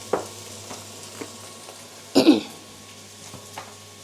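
Ground turkey frying in a pan lets out a steady soft sizzle with a louder hissing burst partway through, close and alone with no talk.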